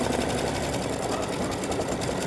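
An embroidery machine stitches the underlay of a gnome's beard in light gray thread, a steady fast whirring, close and continuous with no pauses and no talking.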